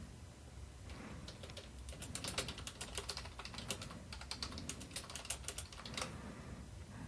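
Typing on a computer keyboard while editing a file in the nano text editor, a steady patter of quick, close key clicks in uneven bursts over several seconds, with no talking.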